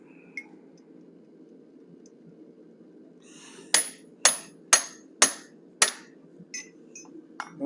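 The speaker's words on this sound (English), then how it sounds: "Right now we're going to finish off the ears using a pointed punch." A pointed punch struck with a hammer while texturing the ears of a forged steel cougar head, giving six or seven sharp, ringing metallic blows at an even pace over a low steady hum, with no talk.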